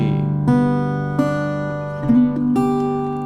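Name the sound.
guitar played in open G tuning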